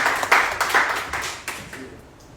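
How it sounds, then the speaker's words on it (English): An audience gives a short burst of scattered clapping that starts fairly strong and thins out into fewer, softer claps before fading away. "Let's get a little clap for that."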